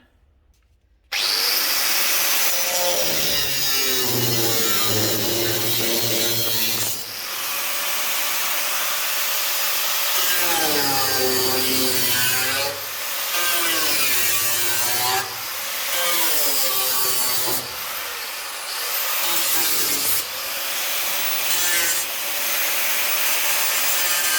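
Power cutting tool biting into the steel body panel of a Fiat Punto GT under restoration, a loud continuous grinding whine that rises and dips across several long passes with brief pauses between cuts, close up and with no talking.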